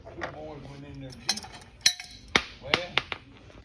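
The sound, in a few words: metal nut and washer tossed into a bucket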